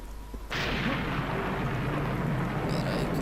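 Thunder and lightning in the video game Serious Sam Classic: a sudden loud crack followed by a sustained, roaring rumble that fills the rest of the stretch, with faint scattered higher game sounds near the end.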